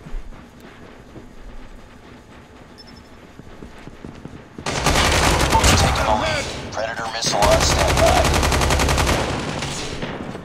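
Rapid automatic gunfire from a first-person shooter video game, two long dense bursts of loud, continuous shooting with a brief pause between, following a quieter stretch of game ambience.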